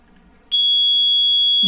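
Two steady high phone tones at 3070 Hz and 3348 Hz begin together after a brief quiet moment and hold loud and continuous, producing a beating hum with a brief low thump at the end.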